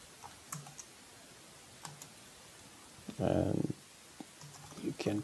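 Keys clatter on a computer keyboard while someone works in an Excel spreadsheet, with sparse faint clicks and one short burst of quicker typing, all quiet and close.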